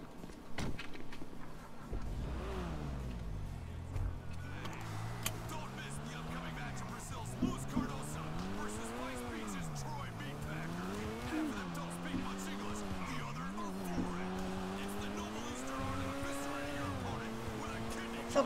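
A car in the GTA video game drives with its engine pitch sliding up and down through gear changes and tires squealing in short bursts, running steadily under the game audio.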